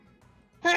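A single sharp sneeze bursts out at the very end, loud and close after a near-silent lead-in.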